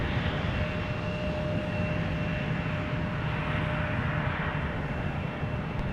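An aircraft takes off at MSP airport, its engines producing a steady, loud broadband roar with a faint tonal whine that holds evenly throughout with no talk.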